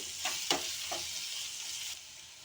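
Paneer cashew curry masala sizzles steadily in a pan while a few scraping strokes of a spoon stir it, then the hiss softens toward the end.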